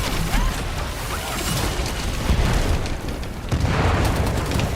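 A defenseless resupply aircraft is shot down and explodes in The First Descendant, a loud, dense booming rumble with bursts of blast noise and debris that swell and persist across the whole span.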